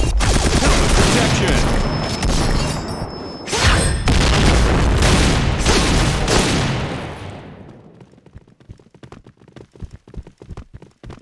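A grenade explodes in the shooter game Point Blank, a loud, long rumbling blast lasting several seconds, followed by a quieter run of sharp gunshot-like cracks.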